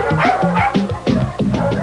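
Several dogs bark and yip in quick repeated bursts inside a house whose rooms have been converted into kennels, close and loud with overlapping barks and a whimpering tone.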